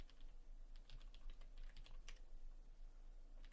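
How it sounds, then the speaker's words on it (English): Typing on a computer keyboard while installing a Pi-hole DNS server, irregular bursts of close key clicks over a steady low hum, with a quiet pause near the end, no talking. "because we're going to type this in"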